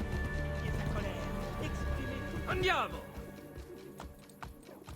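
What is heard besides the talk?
horse hooves and neighing in video game Assassin's Creed Brotherhood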